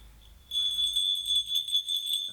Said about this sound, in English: a tiger bell. These are traditional bells from Tibet